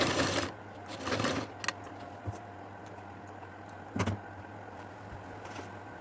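A sewing machine stitching around a V-neck collar: a few short bursts of whirring stitching, fairly faint, separated by quiet pauses with a low steady hum beneath.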